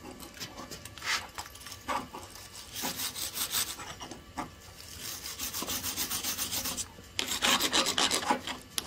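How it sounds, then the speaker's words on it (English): A clean wire brush scrubs a fresh flux core weld bead on steel in bursts of harsh, raspy strokes with short pauses between them, close and fairly loud, with no voices. "Let me get a wire brush. Make sure you got a good clean wire brush here."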